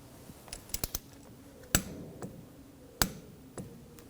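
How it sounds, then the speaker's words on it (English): A torque wrench is set on a brake hose bolt of a 2011-2018 Volkswagen Jetta during a front brake hose replacement, giving a series of sharp metallic clicks and taps, some in quick groups and others spaced apart, close by in a quiet workspace. "Now I'm going to torque this bolt to 25 foot-pounds."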